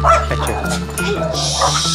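A dog barks at other dogs in short, yappy bursts close by, under a continuous low hum and background chatter.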